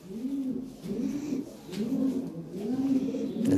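A big Lahore siraji pigeon, a top-quality male, coos close by in low, throaty, rolling phrases, four or so repeated swells in a steady rhythm.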